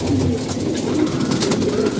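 Domestic pigeons returning to their loft for feeding coo softly and continuously from close by, a low murmuring call with no talk over it.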